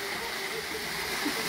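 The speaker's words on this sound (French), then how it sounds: "Avec là une petite cascade d'eau." A small waterfall at a crocodile enclosure on Djerba gives a steady, even rush of falling water with no breaks, fairly close and continuous throughout.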